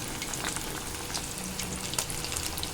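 Seer fish (vanjaram) pieces shallow-frying in a pan, a continuous crackling sizzle with scattered sharp pops and spatters, moderately close and steady throughout, with no voices.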